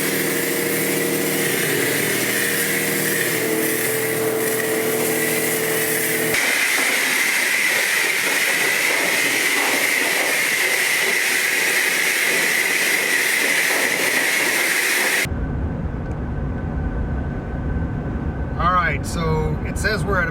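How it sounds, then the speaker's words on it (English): A GMC Sierra HD on new all-terrain tires cruises at about 65 mph, giving a steady broadband drone of road and tire noise inside the cab, with a voice heard near the end. "This is what it sounds like with these tires at 65"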